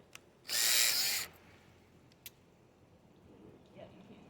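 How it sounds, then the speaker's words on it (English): One short burst of a power drill with a stone bit whirring into stone for under a second, followed by a couple of faint clicks in a quiet room. "you can get a stone bit, and you can drill that just like you would tile"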